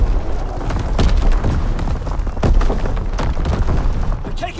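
Repeated booming explosions and heavy thuds hit in the Call of Duty WWII domination mode as artillery fires on a target, several loud blasts spaced about a second apart over a dense battlefield din.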